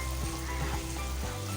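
Ginger and garlic spice mix fries in a pan with a dense, even sizzle, close and steady throughout with faint stirring touches.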